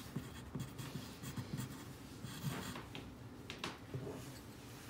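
Someone writes on a board in a fifth-grade class, making soft, quiet scratchy strokes in short bursts over several seconds against a quiet room.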